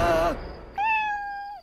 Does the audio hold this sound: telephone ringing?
no